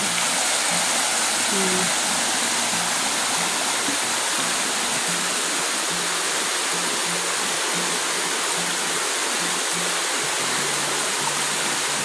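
Steady rushing of river water, a continuous broadband wash that stays loud and even throughout with no pauses.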